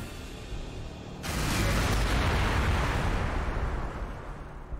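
Tank cannon fire in the Warhammer 40,000: Gladius strategy game: a sudden heavy boom that swells into a loud, sustained rumbling roar lasting several seconds, with no talk.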